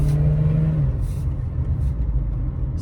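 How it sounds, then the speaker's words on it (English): A Saturn car's engine idles smoothly with a steady low rumble, briefly overlaid by a higher whine that fades out early, with a few faint clicks on top. "What an awesome, awesome running little car."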